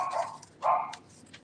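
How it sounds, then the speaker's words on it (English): A dog barks twice from somewhere nearby in a quiet indoor room, each bark a short, sharp burst with a brief gap between them. "Ignore my dog barking."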